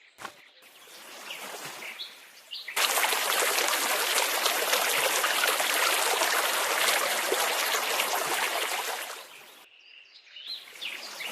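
Steady flowing water in a children's counting game, a loud continuous rush swelling in after a few seconds and holding for about seven seconds before cutting off, with faint birdsong and game chimes at the edges.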